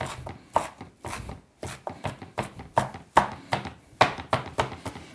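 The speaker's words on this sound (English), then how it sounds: "Chopping your coriander really just releases all those flavors." Knife chopping fresh coriander on a board while preparing a lamb and chickpea curry, giving a quick series of crisp, close taps in an irregular rhythm, with no talking.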